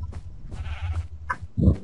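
Minecraft sheep bleating in a snowy biome, a short, close bleat near the end of the clip.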